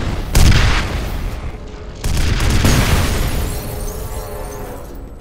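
Loud booming explosions from the shooter game F.E.A.R., two heavy blasts with crackling debris and rumbling tails that slowly fade, no talk over them.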